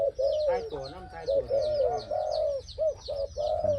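A pair of doves cooing close by, overlapping rhythmic coos repeating steadily over the whole stretch, with a faint bird chirp behind.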